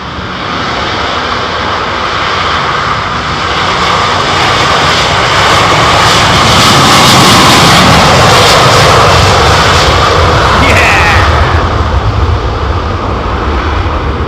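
Airbus A330 airliner engines at London Heathrow Airport give a loud, steady broadband roar that swells slightly and holds for the whole span, close and continuous, with no speech over it.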